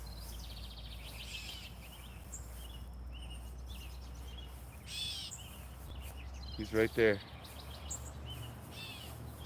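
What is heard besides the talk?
bird calling outdoors near garden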